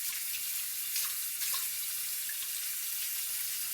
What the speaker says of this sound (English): So I'm going to wash these potatoes.